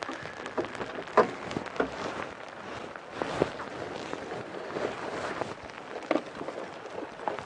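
Steady rain patters on an open safari Land Rover during a sunrise game drive, a continuous broadband hiss with scattered louder drops and knocks, no voices.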